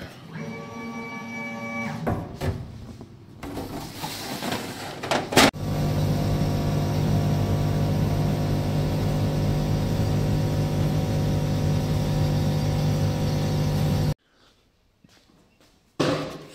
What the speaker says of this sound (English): So we got the laser cutter here and the wood is three millimeter.